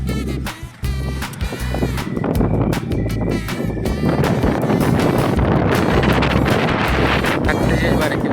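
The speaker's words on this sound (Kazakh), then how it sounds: "Қатты жел бар екен бұнда." Strong wind buffets the microphone aboard a motor boat on a lake at a resort, a loud, rough, continuous rumble with gusting roar, while a voice briefly speaks at the start.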